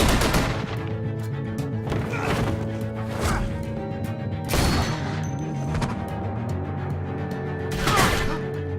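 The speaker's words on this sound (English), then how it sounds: "I hear gunfire" Sharp gunshots crack out irregularly in The Walking Dead: A New Frontier video game over a steady low drone, some single and some in quick bursts, with loud blasts near the middle and end.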